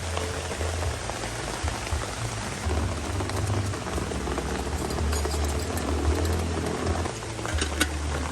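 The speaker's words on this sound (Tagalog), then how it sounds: "Lakas ng ambon eh." Steady heavy drizzle patters on a surface, dense and continuous, with a low rumbling hum underneath throughout, in windy Quezon province.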